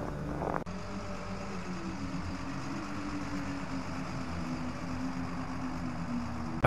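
A truck engine in the video game Lost Horizon drones steadily and low throughout, a continuous hum with a slight rising tone, alone with no talk.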